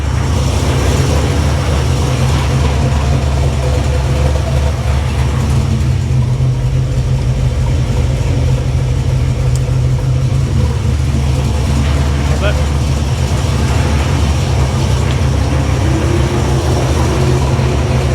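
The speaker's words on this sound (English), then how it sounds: "Then we'll do a couple of revs" A carbureted car engine at full running temperature idles loudly and steadily close by, with a swell of revving partway through before settling back to a rumbling idle.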